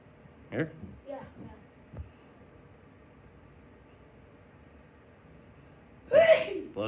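A single abrupt sneeze bursts out near the end of a quiet stretch in a home tutoring session, preceded by a few brief soft vocal sounds.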